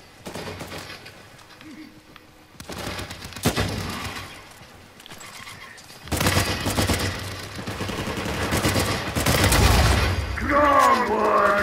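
Gunfire in the Uncharted 4 video game: bursts of shots and automatic fire come in loud clustered volleys that grow denser and heavier toward the end, with a few booming impacts.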